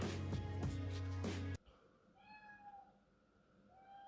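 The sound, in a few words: cat meowing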